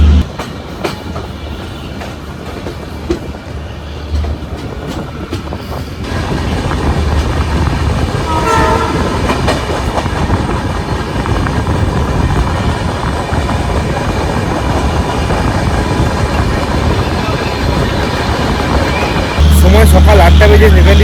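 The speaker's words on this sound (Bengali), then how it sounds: "সকাল আটটা দুই আমাদের ট্রেন ছেড়ে হচ্ছে টাবলি জংশন থেকে" The Dehradun–New Delhi Janshatabdi Express rumbles steadily along the tracks departing a junction station, its clatter swelling louder as it gets under way, with a heavy low thud near the end.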